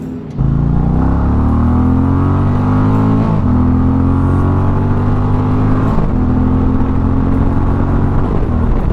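An Indian motorcycle engine roars loudly and steadily, rising through the revs with brief dips at each gear shift, close and continuous throughout.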